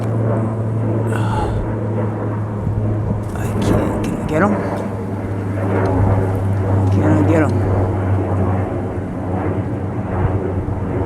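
Airplanes fly overhead through a hazy city sky, a steady distant roar and rumble under continuous outdoor background noise lasting the whole stretch, while someone talks over it.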